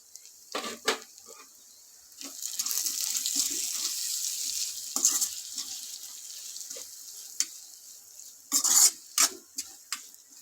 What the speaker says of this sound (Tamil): இப்போ வறுத்து வச்ச பவுடரை போட்டு ஒரு கிண்டு கிண்டி விட்டுக்கலாம்